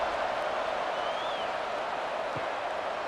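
Steady roar of a stadium crowd cheering before a college football kickoff, Kennesaw State Owls against Jacksonville State Gamecocks, a dense, continuous wash of noise with no breaks.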